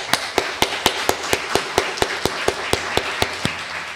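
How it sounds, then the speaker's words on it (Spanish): Steady, evenly spaced claps from the audience at the close of an academic panel session, about four sharp hits per second in a crisp regular rhythm, heard alone without talk. "les pido por favor un fuerte aplauso"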